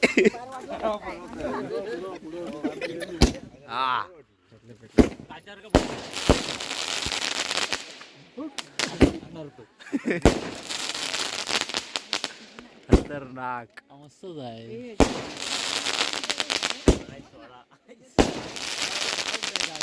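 Firecrackers bang repeatedly in sharp bursts, some close and loud, with excited voices talking and cheering between the blasts.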